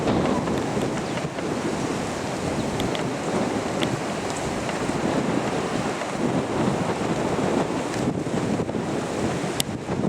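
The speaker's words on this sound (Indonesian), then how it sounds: "Angin masih cukup besar" Strong wind buffets the microphone at a bridge construction site, a steady loud roar with broadband rush that never lets up, gusts swelling and easing throughout with no voices.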